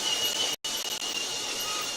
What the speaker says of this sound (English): show you my model train setup here